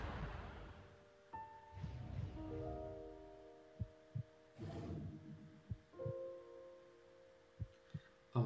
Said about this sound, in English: Oh my god, I can hear the heart beating.